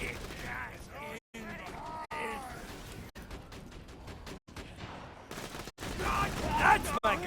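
Turret gunfire in the video game Borderlands 2, rapid bursts of shots and mechanical clatter at moderate volume, broken by brief cuts, with game voices speaking over the action.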